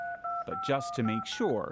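Touch-tone telephone dialing plays as steady beeps at the start, with a person speaking over and after the tones.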